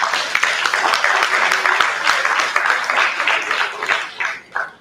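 Audience clapping at a diagnostics panel event, a fairly dense round of applause with audible individual claps that thins out and fades toward the end.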